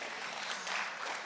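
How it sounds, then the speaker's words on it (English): Audience members at a national conference talk clap in a brief, dense burst of applause, close and steady with no voices over it. "the more you clap, the longer this is going to take"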